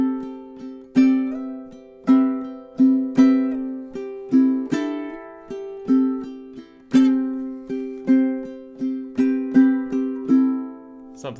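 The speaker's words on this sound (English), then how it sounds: "And here's measures 3 and 4." Bright plucked ukulele chords strummed in a steady rhythm through measures 3 and 4 of a strumming etude, each stroke ringing and decaying quickly before the next, played alone and close with no talking.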